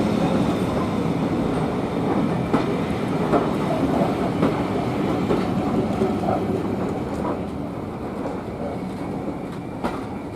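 A diesel train headed by a Class 20 locomotive rumbles past close by with a steady engine drone and rhythmic clicking of wheels over rail joints, fading slightly toward the end.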